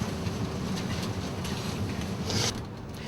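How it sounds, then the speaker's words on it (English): A train pulls out of Euston, with a steady rolling rumble and clatter from inside the carriage and no talk. "4:57, the train set off on time."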